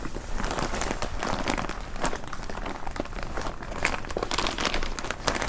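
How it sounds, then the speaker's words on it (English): Organic seed starter and vermiculite poured and handled in a zippered bag, a dense close crinkling and rustling of dry particles and plastic, continuous and fairly loud, with no talk. "So the next step in preparation is adding organic seed starter and some vermiculite"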